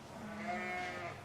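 A four-year-old ewe in a lambing shed gives one drawn-out, wavering bleat, close and clear against quiet shed background.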